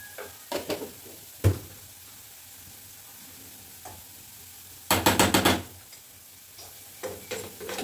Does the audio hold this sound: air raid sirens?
no